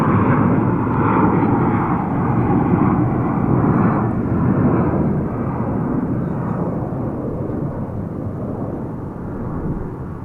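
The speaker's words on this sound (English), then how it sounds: "This is a turn-of-the-century aircraft celebrating its 24th birthday" A turn-of-the-century airliner passing at DFW Airport, a loud continuous low jet roar that fades slightly as it moves on.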